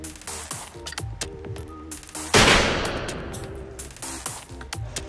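A single loud gunshot fires a bullet into a ballistic pendulum, a sharp blast that decays over about a second, set among scattered clicks and handling noises.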